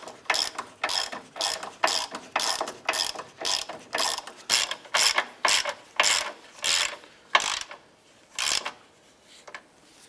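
A ratchet tightens the forward control arm bolt on a 2011-2019 Ford Fiesta, giving close, loud bursts of rapid pawl clicks in a steady stroke-by-stroke rhythm with short pauses between pulls.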